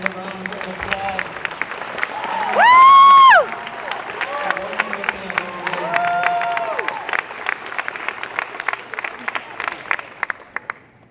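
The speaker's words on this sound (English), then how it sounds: "Let's give all our athletes another round of applause." Applause for track and field athletes at a college signing day: steady clapping from a crowd, loud and continuous, with a few short cheers and voices rising above it.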